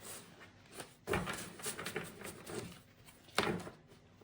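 Soft papery riffling and brisk slaps of tarot cards being shuffled by hand, close by and fairly quiet, with a couple of sharper snaps.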